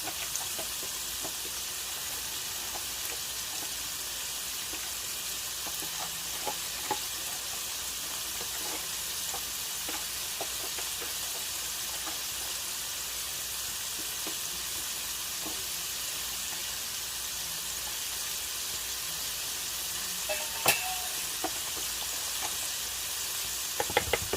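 Fish frying in hot oil, a steady soft sizzle running throughout with faint scattered pops and occasional clicks of stirring.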